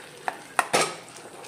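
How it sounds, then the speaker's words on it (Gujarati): Spices stirred into a dry vegetable dish in a pan with lemon juice and chili powder: two quick metallic spoon taps, then a scraping stir, close and fairly quiet. "બધું મિક્સ કરી દઈએ."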